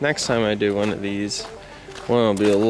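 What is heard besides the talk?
None of the usual background noises is heard.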